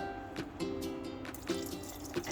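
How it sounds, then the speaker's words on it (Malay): Water poured into a cooking pot while making boiled kembung mackerel with turmeric, soft splashing and trickling in short pulses, fairly quiet and close. "air ni kita masukkan ke dalam ni"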